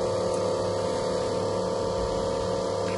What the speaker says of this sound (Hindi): जैसे ही हम स्टार्ट करेंगे तो वैक्यूम बनने लगेगा